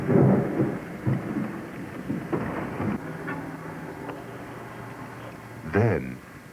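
Thunderstorm over the Texas plains at Fridge, Texas, near a multiple-vortex tornado: rumbling thunder and wind-driven rain, with a loud, close lightning crack bursting out near the end and muffled voices in places.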